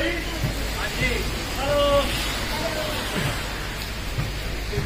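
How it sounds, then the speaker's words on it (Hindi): Heavy rain pouring in a forest, a constant loud hiss of water, while people talk over it. "बारिश इतनी ज्यादा तेज हो रही है कि फॉग जैसा इफेक्ट दे रही है।"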